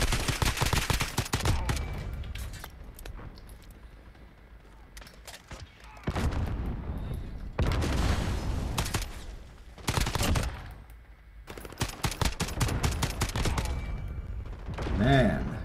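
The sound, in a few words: FAL rifle gunfire in a video game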